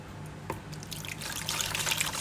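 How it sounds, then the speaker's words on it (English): Roughly a kilogram of water poured into a bucket as the base for a very wet sourdough bread dough, a quiet trickle that swells into a steady splashing stream, close and alone. "So we're gonna add the water first."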